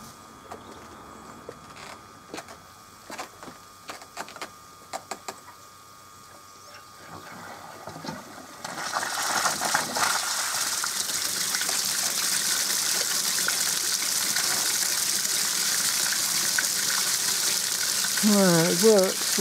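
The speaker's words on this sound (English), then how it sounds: "this is another experiment with a water turbine to try and generate some electricity" A homemade water turbine set in river water to generate electricity starts with faint scattered clicks and knocks, then a loud, steady rushing, whooshing water noise takes over and holds, with a brief rising whine near the end.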